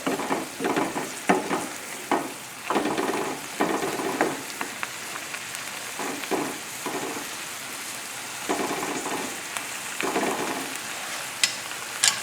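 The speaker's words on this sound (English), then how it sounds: "I'm going to let that cook down for a minute." A tarragon sauce for salmon bubbles and reduces in a pan with a continuous close sizzle, and repeated scrapes and stirring strokes rise above it.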